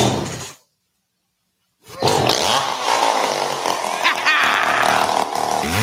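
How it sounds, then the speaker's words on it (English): Chainsaw revving loudly with a rough, continuous roar as a sound effect in a radio ad for a chainsaw shop, starting briefly, cutting out for about a second, then snarling steadily through the rest. "Burl's Chainsaw Shop."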